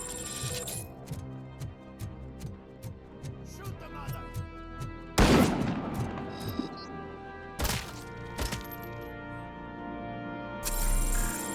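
Sniper rifle gunfire in the video game Robocop: Rogue City, three loud, sharp cracks spaced a few seconds apart over busy in-game clatter and tones.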